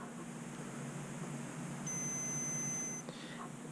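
A multimeter's continuity beep sounds while probing the ground points of a circuit board before first power-up, one steady tone holding for about a second over a quiet hum, then cutting off.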